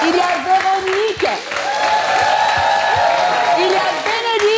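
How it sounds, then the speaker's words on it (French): A crowd applauds and cheers as a team member is introduced at a church gathering, with clapping beneath sung or whooping voices and loud, sustained crowd noise. "Il y a Déoda, sous vos acclamations"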